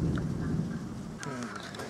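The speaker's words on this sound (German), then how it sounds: "Gerade eben hat es voll heftig gedonnert" Thunder booms and rolls during a heavy thunderstorm in Florida, with a low rumble and rain steadily hissing over the whole stretch, moderately loud and a little distant.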